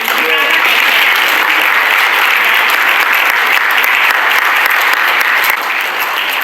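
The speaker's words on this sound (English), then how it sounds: "Yes, clap to that." Steady, loud applause from a crowd fills the whole stretch, dense clapping without a break that fades only slightly at the end.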